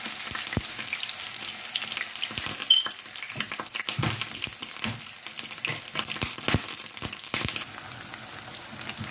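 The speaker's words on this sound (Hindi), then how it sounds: "ऑयल गर्म हो चुका है, साथ ही आलू ऐड कर देंगे" Potato pieces sizzle in about four tablespoons of hot oil in a pan, giving a steady, dense crackle with frequent sharp pops and spits, close and loud, with no talking.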